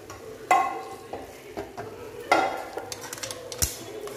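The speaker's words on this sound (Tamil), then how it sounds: "எல்லா முட்டையும் சேர்த்துட்டு இதை நல்லா மிக்ஸ் பண்ணி" A spoon stirring masala Maggi noodles with fried egg in a pan makes soft scraping and clinking against the metal, with a few sharper taps and faint sizzling at an irregular pace.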